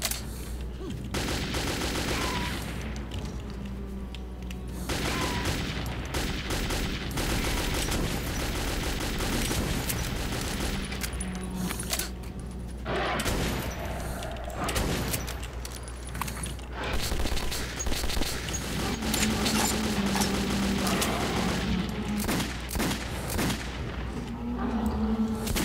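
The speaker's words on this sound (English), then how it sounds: "But he's also got that badass AK-47 of his." AK-47 fire in Metro 2033 during a botched stealth fight against mole rats, sustained loud rattling automatic bursts and volleys running almost continuously across the stretch, with brief lulls between.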